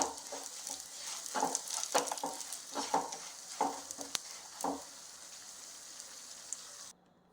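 Jaggery melting in a spoonful of ghee for sesame ladoos, stirred in a pan: soft sizzling with intermittent spoon scrapes and clicks, close and moderate, no voices, cutting off near the end.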